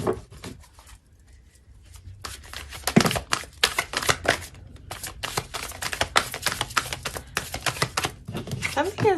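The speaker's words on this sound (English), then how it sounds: "We're just going to shuffle one more time." Crisp, rapid riffling of cards in repeated bursts, close by, with brief pauses between shuffles and a quiet voice now and then.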